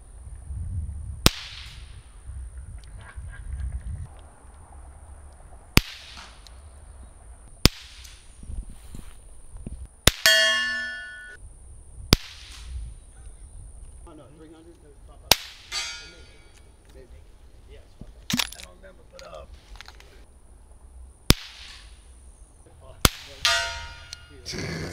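Suppressed B&T Station Six pistol firing outdoors, a series of sharp isolated cracks spaced several seconds apart, with a brief metallic ring after one shot and quiet background between.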